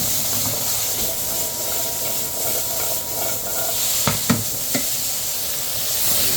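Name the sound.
swede and parsnips sizzling in a pan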